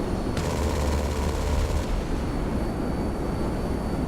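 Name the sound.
B-11 Strike Force jet cannon firing in GTA 5 video game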